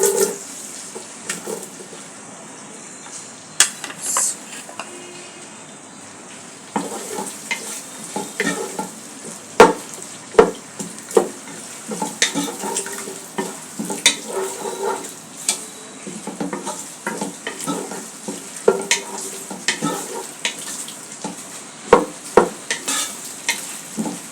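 Chopped onions fry with bay leaves in oil for bhuna khichuri, a steady close sizzle with frequent sharp scraping stirs against the pot, irregular and clattery, with no voices.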